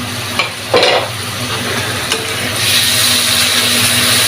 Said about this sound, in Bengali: আমি মশলাটা ঢেকে কষিয়ে নিলাম কারণ ছিটা আসে